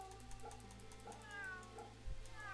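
A calico cat in the video game Fate/Samurai Remnant meows several times over steady background game music, the cries moderately close and fairly soft.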